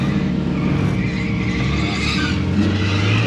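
A hotrod drift car with a tightly shimmed limited-slip differential runs at half throttle, a steady loud engine drone mixed with tire noise and skidding, heard close and continuous without voices.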